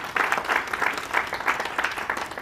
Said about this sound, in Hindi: सबका तालियों से आपका स्वागत